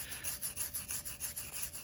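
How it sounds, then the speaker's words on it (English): A small wire brush scrubs loose paint off the engine of a 1982 Honda CB900F barn-find motorcycle in quick, even back-and-forth strokes, a faint, close, hissing rasp repeating about four times a second. "small wire brush here, and that just kind of gets some of the looser stuff off."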